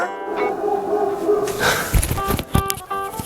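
A dog yips and barks in a few quick, close bursts, preceded by a brief whining tone, with some voice in the background.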